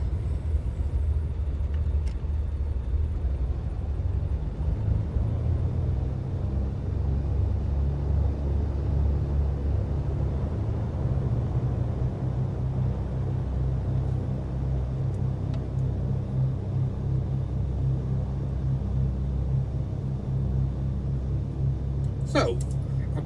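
A jet aircraft taxiing back up a runway in a flight simulator, a steady low engine rumble droning close and continuous for the whole stretch, with no pauses or surges.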